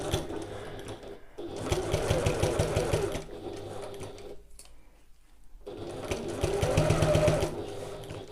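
A sewing machine stitches a long bag strap at a half-inch seam allowance in two steady, close runs of rapid whirring needle strokes, separated by a short quiet pause.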